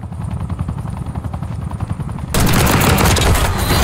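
Video game helicopter in a Search & Destroy match roars in loud and close, a dense rotor wash that abruptly swells and holds steady after a stretch of rapid gunfire-like thumping.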